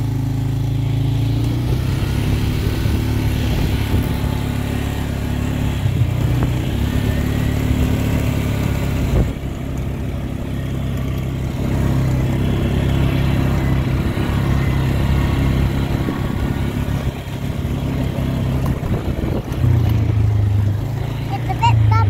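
An ATV drives along a bumpy hydro line trail on Triple Tower Road, its engine droning steadily at a low, even pitch throughout, close by, with occasional knocks and rattles from the rough ground.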